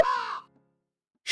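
Crows caw twice in the ranch-farming video game The Ranchers: one harsh, close call in a short burst, then silence before a second caw begins.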